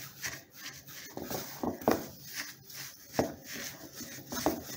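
Coconut powder being stirred with hazelnut flavouring in a bowl, giving soft scraping and rubbing strokes in an uneven rhythm, close and fairly quiet, with a few sharper scrapes among them.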